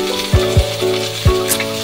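Pechay (bok choy) hits a hot pan and sizzles steadily while stir-fried, with three or four sharp clanks and scrapes of the utensil standing out over the hiss.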